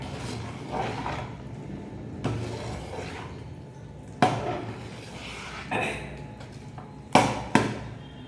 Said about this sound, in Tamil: இப்போ இந்த மாவை வந்து நல்லா கலரிக்கிறேன்